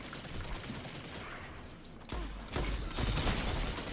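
Enemy gunfire in the shooter Destiny, with a steady rattle of shots that breaks into louder, heavier bursts of fire in the second half.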